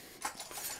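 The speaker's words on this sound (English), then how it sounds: "IKEA silverware. Very plain, very modern looking." IKEA stainless silverware, plain modern style, handled in a few quick metallic clinks and rattles close by, with no talking over them.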